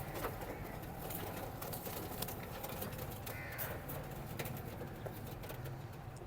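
Crowd of pigeons and crows at the Sunday Saddar pigeon market in Karachi, a busy outdoor bed of cooing and cawing with scattered bird calls and general market clamour, faint and continuous.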